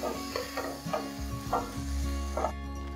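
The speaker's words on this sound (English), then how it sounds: "we're just going to let those veggies brown for a few minutes" Onions and peppers brown in a pan with a moderate, continuous sizzle, punctuated by a few soft stirring scrapes over a steady background hum.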